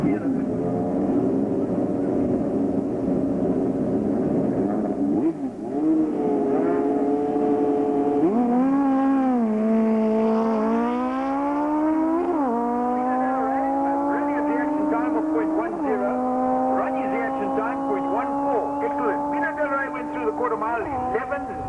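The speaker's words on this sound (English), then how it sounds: "we've seen Ronnie on his new bike, racing for Bauman's Motorcycles in Canada" Racing motorcycle engines at a 1997 Tarlton race meeting, with a loud, sustained high-revving roar that rises and falls through gear changes as machines pass close by, under a commentator talking continuously.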